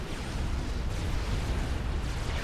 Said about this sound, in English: And yet another nuclear explosion going on as Corsairs come in to kill off the Monkey Lord.